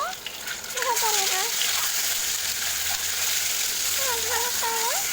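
Eggs frying in a pan with turmeric and salt, a loud continuous hiss and sizzle running throughout, with a voice talking over it at the start and again near the end.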